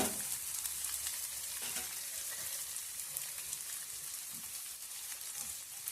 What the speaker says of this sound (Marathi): कांदो आपलं ना मस्तपैकी असं भाजून घ्यायचं.